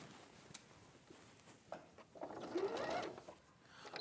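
A sewing machine runs a seam down the side edge of fabric, with a soft, steady mechanical patter that builds to a louder run of stitching near the end, heard alone.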